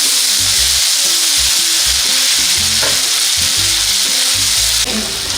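Peanuts dry-roast in a pan over a high flame for Gujarati undhiyu. A loud, steady sizzling crackle is broken by rhythmic scraping strokes of a spatula stirring the nuts.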